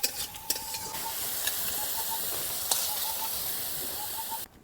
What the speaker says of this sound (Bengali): এরপর নাড়িয়ে নেব।